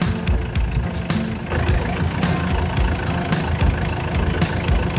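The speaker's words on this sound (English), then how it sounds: "Go grab the other tractor. Okay, I got the tractor." A tractor engine idles steadily at close range, a continuous low rumble with a few faint clanks and knocks over the top. The tractor is on an apple farm in spring rain.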